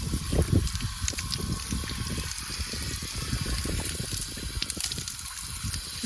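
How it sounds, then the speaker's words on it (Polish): Water splashing and gushing while a dog's nose is rinsed, a steady bubbling wash of liquid noise, close and fairly loud, running continuously. "No jakaś wariatka mu nos czyści wodą"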